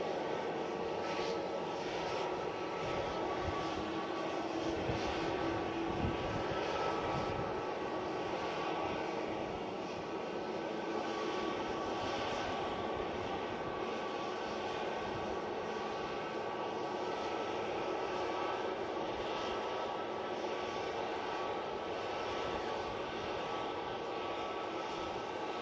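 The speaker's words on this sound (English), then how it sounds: "Airlines A380 coming out" An Airbus A380 airliner departs Manchester Airport, its jet engines giving a loud, sustained, wide roar that stays steady for the whole stretch, with wind buffeting and faint voices in the background.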